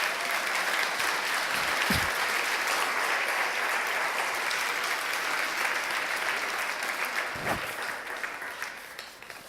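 Congregation applauding during a church sermon, a full steady wash of clapping lasting the whole stretch with a couple of low thumps, easing slightly near the end.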